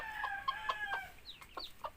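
A mother hen with her chicks gives a series of short, close clucks at an uneven rhythm over quiet farmyard background.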